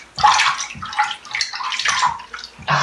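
Running water pours from a tap in short, splashing bursts while a peel neutralizer is mixed, close and fairly loud, with no talking.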